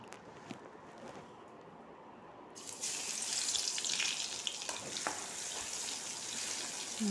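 Crushed ginger dropped into hot oil in a pan while cooking macaroni pasta: quiet background hiss that jumps into a steady, louder sizzle partway through and keeps crackling close by.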